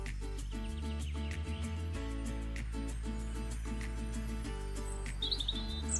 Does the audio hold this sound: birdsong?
yes